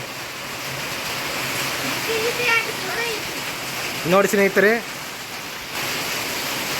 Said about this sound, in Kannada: ನೋಡಿರಿ ಸ್ನೇಹಿತರೆ ಸಿಕ್ಕಾಪಟ್ಟೆ ಮಳೆ ಬರಕತ್ತಿ